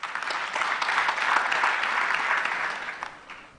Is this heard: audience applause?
yes